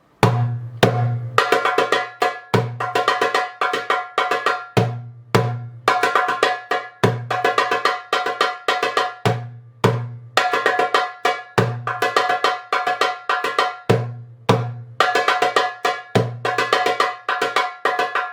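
A darbuka plays the Masmudi rhythm, a repeating pattern of deep bass strokes and sharp ringing rim hits, steady and close, with brief pauses between cycles.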